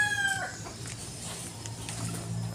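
A rooster crows briefly at the start on a rural provincial farm, followed by softer scattered clucks and calls from chickens close by.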